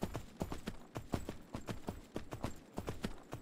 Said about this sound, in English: But I'm riding a wild ass,